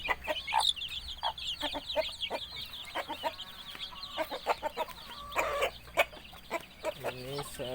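A mother hen clucks among her brood of about fifteen chicks, giving short, uneven clucks and soft calls close by, with thin chick peeps rising near the end.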